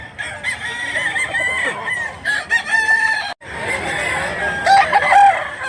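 Chickens cluck and a rooster crows nearby, loud and continuous, with a short break partway through and voices murmuring faintly underneath.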